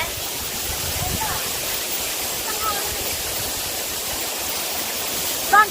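Anthurium Falls in Famy, Laguna, a tall waterfall, roars as a constant, loud rush of water that holds steady throughout, with a brief clatter near the end.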